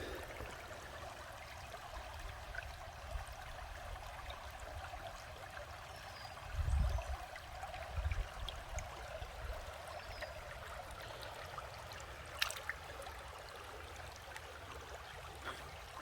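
A small, shallow Illinois creek flows with a steady, soft rushing trickle throughout, with a couple of low thumps partway through and no talking.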